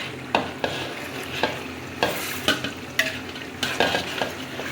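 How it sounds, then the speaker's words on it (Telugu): Tomatoes fry with onions and ginger-garlic paste in a pot, under a constant sizzle broken by repeated clinks and scrapes of a spoon stirring at a steady rhythm, close and fairly loud. "ఇప్పుడు టమాటాలు వేసేస్తున్నాను"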